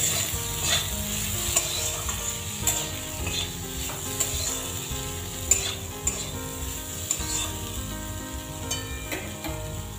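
Green moong lentils frying in a pan with turmeric, chili powder and salt, sizzling steadily while a spoon stirs and scrapes with intermittent clinks against the pan, close and without talk.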